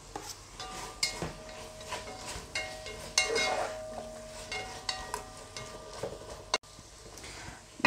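Carrots stirred into onions frying in a pan for Tatar azu, a soft steady sizzle with scraping stirring strokes and occasional utensil clinks against the pot.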